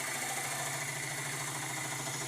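A wood lathe gouge hollows a wormy sycamore bowl while pushed too hard, making a steady, dense grinding rumble that runs unbroken and loud throughout, with no talk over it.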